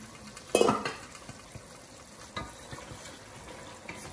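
A spoon stirs corn niblets in a cooking pot, with one loud scraping clatter early on. Lighter scattered taps and scrapes follow against a quiet background.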